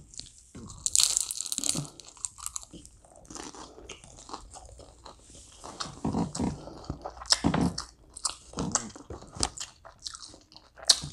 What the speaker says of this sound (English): Look how fast I'm eating that.